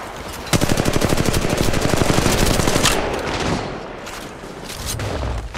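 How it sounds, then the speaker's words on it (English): Rapid automatic gunfire in the mobile battle game Apex Legends Mobile, a dense burst of close, loud shots that tapers into scattered fainter firing. "Shooting!"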